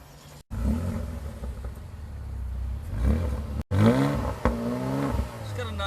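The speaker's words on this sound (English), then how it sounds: "It's got a nice, healthy sound to it. Got a nice bellow. A deep burble." A 2016 Porsche Cayenne GTS with a turbocharged V8 and sport exhaust revs up close at the rear, with a deep, rumbling idle broken by a few sharp throttle blips that rise and fall.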